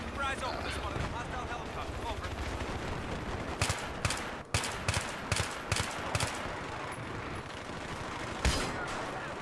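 Gunfire in the video game Battlefield 3 rattles in rapid bursts and sharp single cracks during a squad match, mixed with helicopter noise and players talking over the action.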